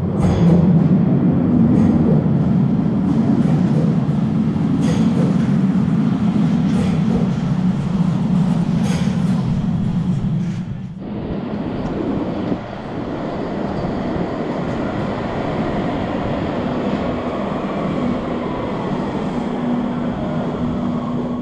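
Cologne Stadtbahn light rail train running while crossing the River Rhine, a steady loud low rumble that drops abruptly near the midpoint to a quieter, even hum with a faint sustained whine.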